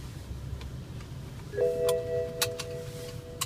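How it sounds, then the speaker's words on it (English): A soft electronic seatbelt warning chime in a 2004 BMW 640Ci sounds once, a clear sustained tone over low engine rumble, followed by a few faint clicks. "That's the infamous chime for the seatbelts."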